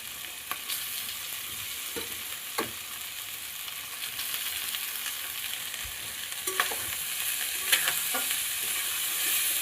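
Leftover cooked rice stir-fried in a pan with turmeric and chili powder, giving a steady close sizzle with scraping spatula strokes and occasional sharp clicks against the pan.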